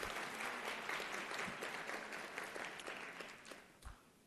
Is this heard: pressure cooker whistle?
no